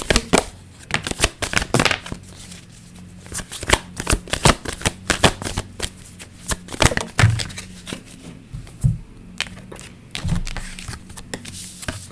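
A deck of tarot cards is shuffled by hand at a table, giving repeated bursts of crisp riffling and slapping in an irregular rhythm, close and fairly loud.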